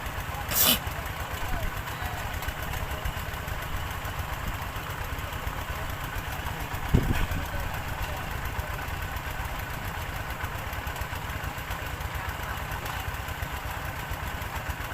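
An engine-driven water pump drones steadily beside a sugarcane field, a constant mid-pitched mechanical hum with a couple of brief knocks and bangs, while people talk over it.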